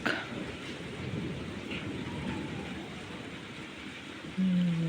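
Thunder with rain in the French countryside, a low rolling rumble under a steady hiss of rainfall, continuous and moderately distant, with a brief tonal sound near the end.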